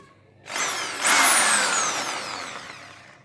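A Bosch EasyImpact 550 power drill whirs to life, jumps to a higher, louder pitch, then holds a steady whine that slowly fades, close by with no talking.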